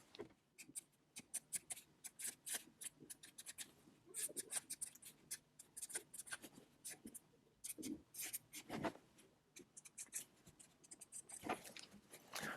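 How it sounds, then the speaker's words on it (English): A pen scratches out handwritten notes up close, with quick irregular strokes and taps continuing steadily and quietly for several seconds with no one talking. "So let me just write that down"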